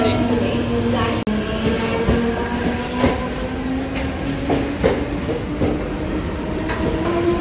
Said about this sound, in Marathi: आता भायखळ्यावरून आम्ही चिंचपोकळीसाठीची ट्रेन पकडली आहे स्लो